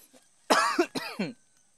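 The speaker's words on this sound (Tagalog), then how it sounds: "Inuubo ako" Two harsh coughs in close succession, loud and near, with nothing else but faint background noise.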